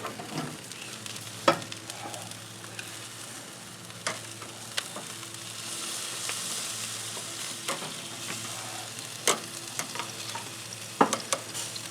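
Thick-cut pork chops sizzle steadily over a Thermos charcoal grill, a constant frying hiss broken by occasional sharp pops and crackles, close by with no talking.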